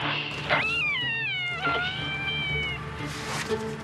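A cat gives a couple of drawn-out, close meows with a wavering pitch, heard over faint background noise.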